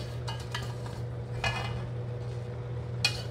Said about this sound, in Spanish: Tenemos que revolver